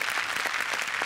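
Dense, steady audience applause for actor Milind Gunaji at a televised comedy show, a continuous crowd clatter without pauses or voices.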